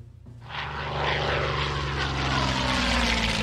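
A propeller-driven scouting plane engine in the Hex of Steel strategy game rises from quiet into a loud, steady droning hum that holds without any talk.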